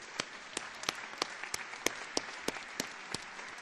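Audience applause for Sue Hunt at a student showcase meeting: quiet, distant clapping with a handful of sharp individual claps standing out, steady and unbroken with no voices.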